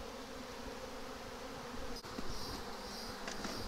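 Honey bees swarm over frames of an open hive nearly honey bound, a dense, continuous buzzing drone, close and steady, with a brief knock partway through.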